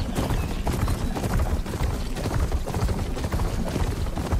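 Horse mount's hooves in Horizon Forbidden West, a steady galloping clip-clop running continuously and fairly loud, with no talk over it.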